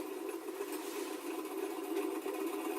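An antique sewing machine runs continuously with a steady, even mechanical whir and rapid stitching rhythm, close and moderately loud with no talk.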